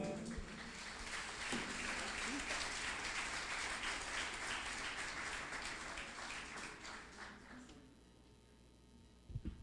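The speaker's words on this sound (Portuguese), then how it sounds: "Aplauda o nome de Jesus" A congregation at a Portuguese-language gospel church service applauds in a dense, steady wash of clapping that fills most of the clip, then thins out near the end, with a faint voice mixed in.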